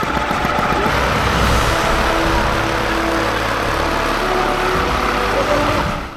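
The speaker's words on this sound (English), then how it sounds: "I'll start the engine now and you watch it." The engine of a homemade styrofoam airboat runs loud and close, a steady roaring drone with a low rumble that holds for several seconds before cutting off abruptly.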